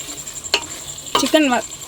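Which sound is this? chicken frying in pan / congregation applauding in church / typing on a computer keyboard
chicken frying in pan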